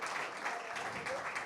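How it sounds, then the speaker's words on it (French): An audience applauds at a French anniversary event, a steady wash of clapping heard faintly at a distance for a brief moment. "on peut les applaudir"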